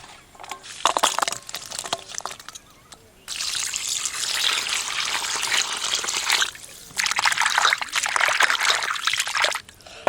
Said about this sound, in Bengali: লবণ দিয়ে পুঁটি মাছগুলো কচলে কচলে ভালো করে ধুয়ে নেব